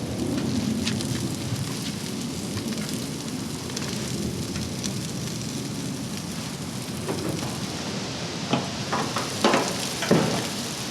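A vegetarian pea protein burger sizzles on a grill with a steady, rain-like hiss throughout, broken by a few sharper pops and crackles near the end.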